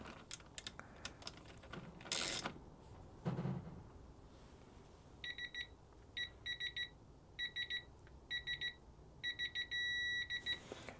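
Torque tool on a battery terminal nut and stud, set to 5 newton meters, giving clicking pulses and then a run of short electronic beeps ending in a longer solid beep, close and clear after some handling noise.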